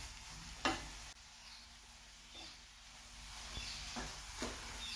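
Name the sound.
stirring coconut and jaggery filling in a pan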